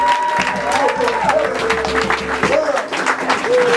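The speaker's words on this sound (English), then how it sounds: "My sister Tria, give her a round of applause, y'all." Audience applause with scattered whoops at a spoken-word lecture event, a dense, steady burst of clapping that runs the whole stretch while a voice carries over it.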